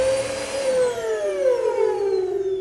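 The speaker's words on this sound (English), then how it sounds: "so when you hear that sound, sounds like a whistle, okay? Then that's when it's time to change out those filters." A vacuum cleaner runs with a steady drone and a prominent high whistle from dirty filters, the whistle's pitch sliding slowly downward, loud and close with no talking.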